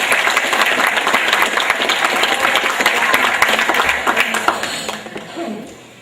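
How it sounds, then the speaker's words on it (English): Alumni banquet guests give the class of 1960 a short round of applause, a full wash of clapping that carries evenly before tapering off over the last second or so. "So maybe we could have one more short round of applause"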